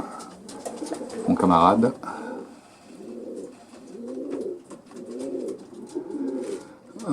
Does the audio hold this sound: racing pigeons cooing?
yes